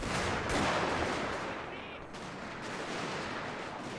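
Musket volleys crackle through a Total War: Shogun 2 multiplayer battle against Infanterie de Marine, a dense, continuous wash of overlapping shots and battlefield noise at steady loudness for the whole stretch.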